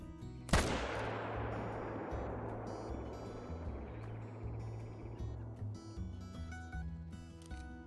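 A single loud gunshot in a whitetail deer hunting video game, a sharp blast followed by a long, fading rumble and ambient game sounds.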